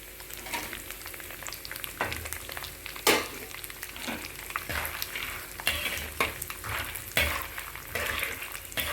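Flattened rice and puffed rice tempering in a pan with dried red chillies, giving a continuous close sizzle and regular sharp scrapes and knocks of a stirring spoon against the pan.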